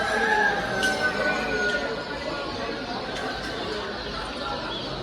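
Chickens cluck at a busy poultry market in Bursa, soft scattered calls under a constant murmur of nearby chatter and market bustle.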